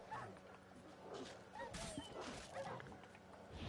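Dogs in The Witcher 3 barking and yipping in short, fairly quiet bursts, mixed with game sound and occasional talk.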